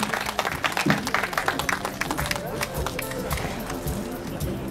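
A festival crowd at the 2014 Naruko music festival claps for a band, with dense, lively applause that is strongest early and then thins slightly, mixed with crowd voices.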